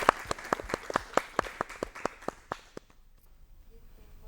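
A small audience gives a round of applause for volunteers, with about a dozen distinct, fairly loud claps in a loose rhythm that thin out and stop after about three seconds, leaving near silence.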